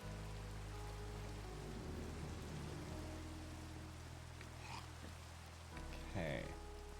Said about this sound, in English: Oh man, is it raining?